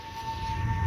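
A tornado siren sounds in the distance beside a railway in the Allegany Mountains, a faint, steady wailing tone held over low background rumble.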